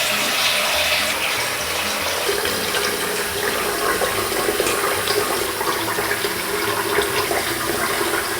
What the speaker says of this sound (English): We are going to rinse off this face mask.